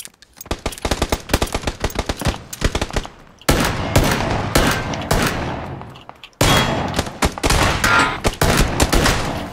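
Rapid gunfire in PUBG, a battle royale shooter: dense automatic bursts in three close, loud volleys separated by brief gaps, with sharp cracks repeating quickly throughout.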